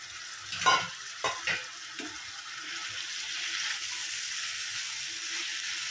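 Mixed chopped vegetables, potato, carrot and tomato, being stirred in a frying pan for bread chops, with a few scraping stirs near the start over a steady soft sizzle and no talk.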